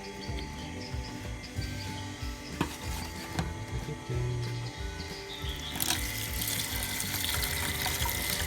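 Water pours into a bowl while cooking a Thai dish, a soft continuous splashing and trickling with light clinks of the bowl, swelling louder toward the end.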